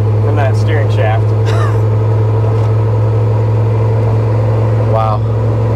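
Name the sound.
turbo LS Chevy OBS truck accelerating through gears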